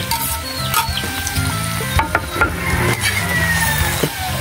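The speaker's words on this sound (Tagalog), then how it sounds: "At ito mga idol, ginisa." Vegetables sautéing in a pan for a Filipino ginisa dish, a loud, continuous close-up sizzle with stirring scrapes and light clinks throughout, no voices.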